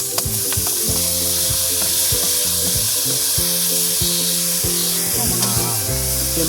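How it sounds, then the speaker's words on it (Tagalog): Kibaw and pako fern greens frying in a kawali, a loud, dense sizzle over a steady hum of tonal background music, with occasional stirring clatter. "Salang natin ang kawali. Ayan, lagyan na natin yung kibaw. Lagyan natin yung pako-pako."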